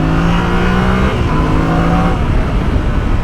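A 2021 Yamaha Ténéré 700 motorcycle engine revving up close, a loud, steady, grunting drone with shifting pitch that holds strong throughout.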